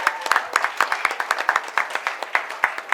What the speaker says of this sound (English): So let us applaud for ourselves.